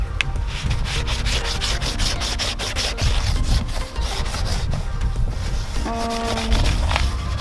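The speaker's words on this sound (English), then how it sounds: "So I'm just going to really quickly scrub this bucket out and then swish it out." A brush scrubs out a bucket in quick rhythmic strokes, close and fairly loud. The rough rubbing repeats continuously, with a few brief scraping squeaks toward the end.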